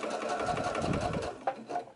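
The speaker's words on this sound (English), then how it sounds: "So now I'm about to sew my 1/2 inch seam, just following the half-inch mark on my machine." A sewing machine stitches a half-inch seam on a messenger bag, a close, steady whirring run that slows briefly near the end, with a couple of short bursts before it stops.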